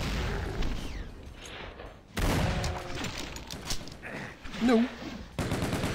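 Rapid automatic gunfire from a chaingunner enemy in Doom 2 crackles in loud repeated bursts amid explosive game effects, with someone shouting over the action.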